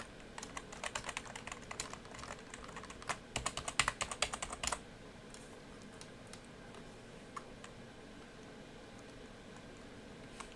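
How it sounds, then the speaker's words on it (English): Fingers tap on a computer keyboard in quick, uneven bursts of light clicks for about the first half, then the typing stops and only faint, sparse ticks remain against a quiet room. "Like, this is my keyboard."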